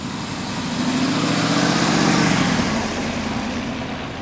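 A 2026 Jeep Wrangler Moab 392 with a 6.4 liter HEMI V8 rumbles loudly through its exhaust, a deep, steady engine drone that swells slightly in the middle before settling back to a heavy idle.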